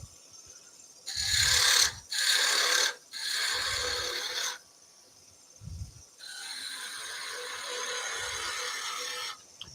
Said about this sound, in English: We use the spindle gouge.